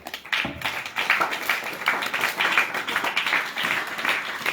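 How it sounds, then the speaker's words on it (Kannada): A classroom group claps loudly for a student named Lekhana at a Davanagere basic foundation course celebration, a dense, steady patter of many hands sustained for several seconds without talk. "ಸೊ ಜೋರ ಚಪ್ಪಾಳೆ ತಟ್ಟಿ ಲೇಖನಂಗೆ"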